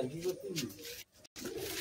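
Giribaz pigeon cooing inside a cage, a few soft low coos, close by, with a brief gap near the end.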